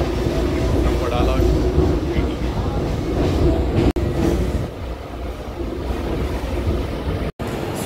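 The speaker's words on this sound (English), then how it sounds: "So I'm now on the train from Wadala." Steady rumble and rattle inside a moving Mumbai local train departing Wadala, a continuous loud roar of wheels and carriage with faint background voices.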